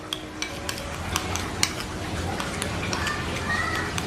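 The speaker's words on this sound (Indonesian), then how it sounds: "Kita aduk dulu bro." A fishing bait mixture is stirred by hand, giving a steady close scraping and mashing with small soft clicks throughout, and a faint voice may be present in the background.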